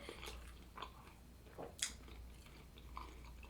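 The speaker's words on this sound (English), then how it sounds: "I can't listen to myself chew" Someone chews Thanksgiving subs up close: faint wet munching with a few crunchy bites and a sharp crisp snap partway through, against quiet room noise.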